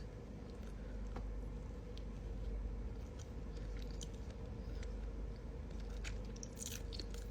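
A salted egg lava custard bun is bitten and chewed close up, with soft, steady mastication and occasional small crunchy clicks over a low, continuous background hum.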